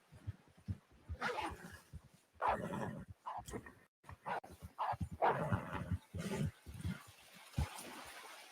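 A dog whimpers and yips near the microphone in a casual indoor setting, giving a run of short, uneven whines and soft vocal bursts that come and go in brief clusters.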